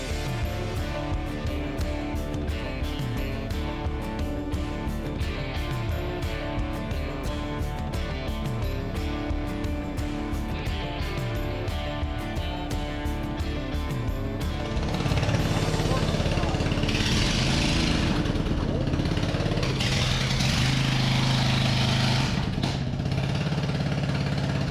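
A homemade fast lawnmower's small engine runs with a steady, loud chugging, then pitches up and grows rougher as the machine drives forward, with voices talking alongside.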